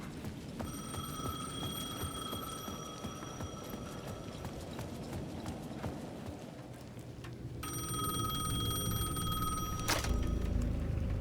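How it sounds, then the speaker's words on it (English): A payphone in the video game Alan Wake 2 rings steadily and repeatedly over a dense ambient background, the bell tone continuing through the whole stretch with a clatter near the end. "The payphone at the edge of the plaza was ringing again."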